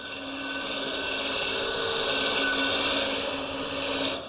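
A wood turning tool cuts a bowl on a lathe, giving a steady, smooth whirring hiss that swells and holds for a few seconds, close and alone.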